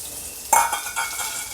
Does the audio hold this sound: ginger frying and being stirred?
yes